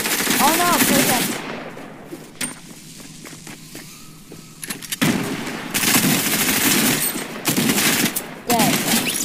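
Rapid bursts of shotgun fire from a video game, several loud blasts clustered at the start and again later, with quieter stretches of movement and effects between them.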